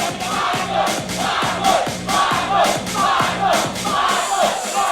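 A boxing arena crowd at the Badboy ng Cebu versus Ferdinand Dela Merced fight roars and chants in steady rhythmic swells, a loud, dense wall of voices rising and falling with repeated pulses throughout.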